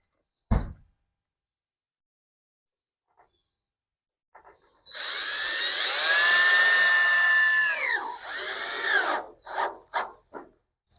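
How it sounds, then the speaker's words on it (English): After a single knock, a small power drill whirs for a few seconds driving tiny screws into a gutter on a Yardistry gazebo, its pitch bending as it bites, then several short bursts and taps as the screw seats. "Just going to put a couple tiny screws in here just to kind of hold it in place."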